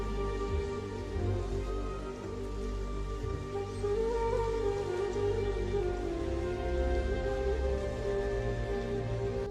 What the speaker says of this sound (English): It is raining, as if it will never stop.